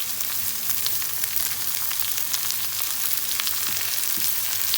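Bitter gourd slices frying uncovered over steady medium heat with salt in a pan, a continuous dense sizzle at close range with small crackles and pops, no voices.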